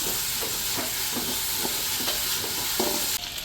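Ingredients for ghee rice are stirred in a hot pan, a steady sizzling hiss with repeated soft scrapes of the spoon in an even rhythm, close up and with no voices.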